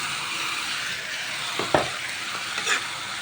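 Squid dropped into a hot pan for adobong pusit bursts into a steady frying hiss, with a couple of sharp crackles and a brief stirring clatter near the middle and end.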